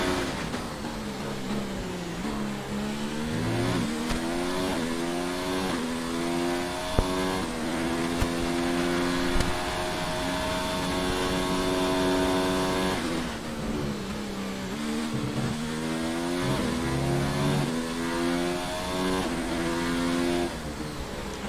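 A racing car engine in a racing video game, screaming at high revs through a fast lap of the Russian Grand Prix, climbing through gears with repeated upshift drops, steady and loud throughout with no talk.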